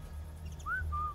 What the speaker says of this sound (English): Can I whistle that guy over?